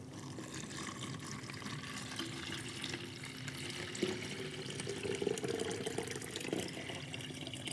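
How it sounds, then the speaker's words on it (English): Hot tap water running steadily into a container holding dye powder and soda ash, a continuous close hiss and splash that brightens slightly as it fills. "fill it with hot tap water up to the fill line"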